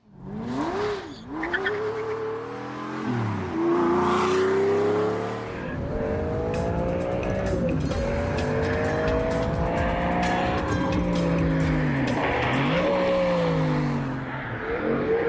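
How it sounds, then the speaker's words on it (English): A Pagani Zonda sports car lapping a race track, its engine rising and falling through gear changes with repeated tire squeal in corners, loud and continuous throughout. "So, let's put the Stig in the Zonda, see what happens."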